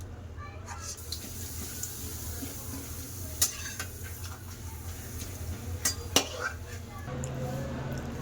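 Lentil papads frying in hot oil, a steady low sizzle with occasional utensil clinks and taps, with someone talking quietly.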